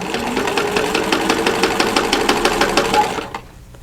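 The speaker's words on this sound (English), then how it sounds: "leave the needle down and pivot, and then go on stitching" A sewing machine stitching fabric for an envelope-style pillow cover runs in a fast, even chatter of needle strokes, close and loud, then stops abruptly near the end.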